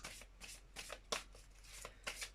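Tarot cards shuffled close by, several quick riffling bursts in an uneven rhythm, fairly soft and with no talk.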